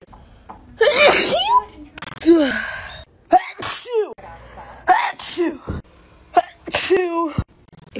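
Someone with hay fever lets out a series of loud, close sneezes, several sharp bursts spaced over a few seconds, with gasping breaths and brief voices in between.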